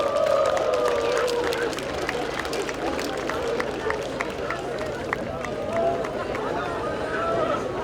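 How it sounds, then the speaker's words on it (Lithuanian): Crowd applause and cheering at a Plungė town festival procession greet a kindergarten group, steady clapping over outdoor crowd noise with a voice talking throughout. "Paplokite Saulutės kolektyvui."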